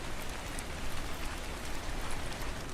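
Steady rain falling in the Ark Ascended game on Scorched Earth, a dense, even hiss of drops spattering on surfaces with no voices.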